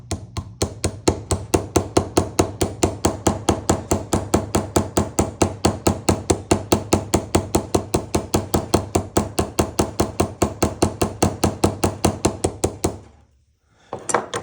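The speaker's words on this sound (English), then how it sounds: "now I'm going to peen this hopefully flat against that" Rapid, evenly spaced hammer taps peen a pin flat against the liner of an old Camillus Barlow pocket knife, dozens of sharp close metallic knocks in a steady rhythm that stop abruptly near the end, with no speech.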